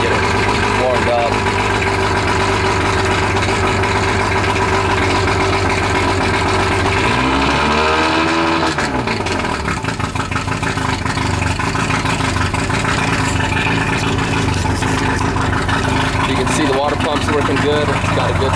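A small gasoline engine, cold and choked, drives a water pump with a hose attached, running loud and steady close by with a constant idling drone and a brief throttle change in the middle.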